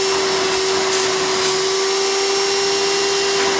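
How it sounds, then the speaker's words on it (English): A Hoover Elite U4717-930 replica vacuum cleaner runs at full power with its suction leaking from worn seals, giving a loud, steady motor whine with a constant airy rush and no change throughout. "You can definitely hear a lot of suction leakage, which is typical as years go by and they lose their seal."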